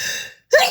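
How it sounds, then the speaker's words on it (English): A single person's sneeze bursts out after a brief silence, preceded by a sharp, gasping intake of breath; close and fairly loud, with no talk around it. "Oh, I'm gonna sneeze."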